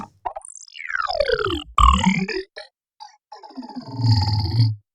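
Arturia MiniFreak vocoder with a multi-comp effect at full amount, giving robotic, gritty voiced phrases in short bursts with gaps, close and fairly loud.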